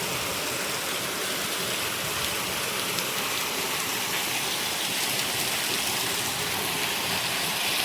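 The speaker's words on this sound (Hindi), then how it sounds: "देखो जी, बहुत ही ज़्यादा तेज़ मींह आ गया।" Heavy monsoon rain pours down in Kapurthala, Punjab, a dense, loud, unbroken hiss of drops striking surfaces close by, with no voices over it.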